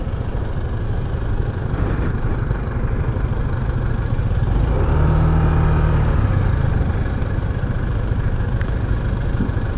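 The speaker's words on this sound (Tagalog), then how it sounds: "Tulad na ito, sobrang traffic." Heavy road traffic with several car and truck engines idling and rumbling close by, a steady dense low drone that swells slightly midway and holds for the whole stretch with no talk.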